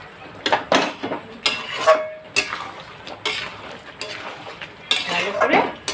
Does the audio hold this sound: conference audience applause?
no